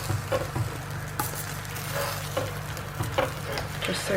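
Roasted vegetables scraped and tossed around a metal oven tray, a dense scratchy stirring with soft sizzling underneath and a few brief sharper knocks, steady and close throughout.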